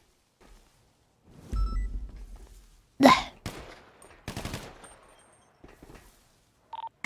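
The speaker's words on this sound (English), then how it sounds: "Disregard the shots." Gunfire in a GTA V roleplay game: a sharp loud burst of shots, then a quick cluster of further cracks, separated by quiet gaps, with faint game sounds around them.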